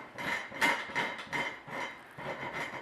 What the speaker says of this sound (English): So I'm using the corner of this rasp.